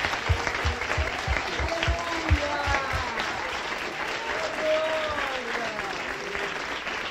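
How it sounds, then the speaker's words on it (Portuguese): A church congregation claps during a Portuguese-language sermon, the clapping steady and moderately loud, while a voice sings or talks over it. "Vamos dar salva de palmas, irmão."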